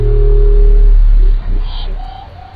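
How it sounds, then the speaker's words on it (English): An underwater Western Pacific Biotwang call, probably from a dwarf minke whale, starts as a deep, loud, low moan. A brief high metallic twang and some fainter tonal sweeps follow it. "Researchers called the series of noises the Western Pacific Biotwang."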